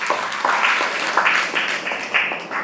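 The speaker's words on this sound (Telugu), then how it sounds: "చప్పట్లు గట్టిగా వాళ్ళకి" An audience at a Sai Baba bhajan and satsang gathering claps for the bhajan group, steady moderate applause from a modest crowd lasting a few seconds with no speech over it.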